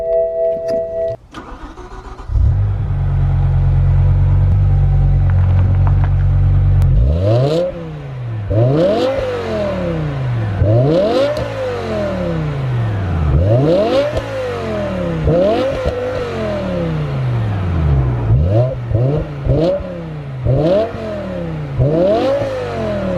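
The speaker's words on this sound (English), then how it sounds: "give you guys a start up noise, and then basically give you a few revs" A BMW M5 E60 with its V10 engine cranks and fires, settles into a loud idle, then is blipped repeatedly, each rev rising sharply and falling back in a quick rhythmic series of high-pitched, motorsport-like pulls.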